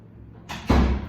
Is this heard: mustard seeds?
no